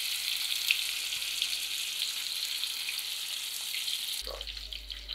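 Fish pieces fry in a pan, giving a steady bright sizzle that continues evenly, with a faint low thump near the end.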